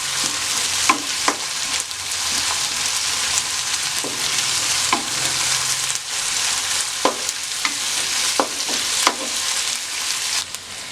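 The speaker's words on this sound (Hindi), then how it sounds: "अच्छे से मिक्स कर लेंगे। और इसे 1 से 2 मिनट के लिए फ्राई कर लेंगे।" Lauki and chana dal fry in a pan with ginger and green chili paste, producing a loud, continuous sizzle punctuated by intermittent spoon scrapes and taps as the mixture is stirred.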